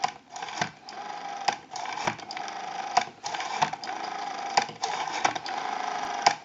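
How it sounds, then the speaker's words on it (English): The rotary dial of a Western Electric Princess telephone returning after being turned, giving a steady, fairly close run of mechanical clicks at an even rhythm over a light whirring background. "We have a nice smooth return on our rotary dial now."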